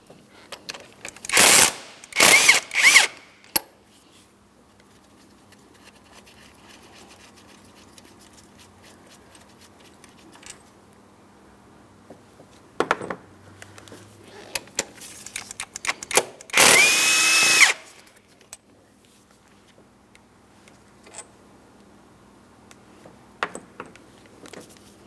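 A power tool zips out 16mm bolts on the upper engine mount plate of a 2008–2016 Chrysler Town & Country 3.8L V6, in several loud, close bursts of a few seconds each, separated by long quiet gaps with faint clinks.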